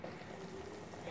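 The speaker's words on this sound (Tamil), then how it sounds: "நல்லா கொதிக்கிறது." A quiet, steady bubbling of water simmering in a pot for upma kozhukattai, with a soft continuous hiss and faint pops.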